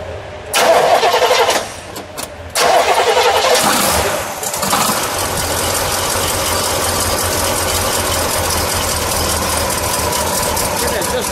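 A 1969 Oldsmobile Hurst/Olds replica's V8 engine cranks in a couple of short bursts, then catches and settles into a steady, rumbling idle.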